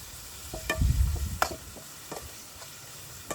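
Dried salted fish being sautéed and stirred in a pan, a few short stirring scrapes and a brief low sizzle early on, then quieter with occasional clinks.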